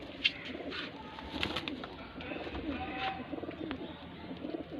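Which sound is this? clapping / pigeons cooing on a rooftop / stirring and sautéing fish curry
pigeons cooing on a rooftop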